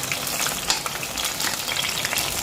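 Battered enoki mushrooms deep-frying in hot oil make a steady, dense crackling sizzle, loud and continuous throughout with no voices.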